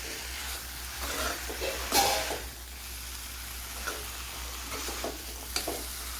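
Chicken fry with fried onions is stirred in a hot pan, giving a soft steady sizzle broken by scraping stirs, including one louder scrape; the sound is close and fairly quiet.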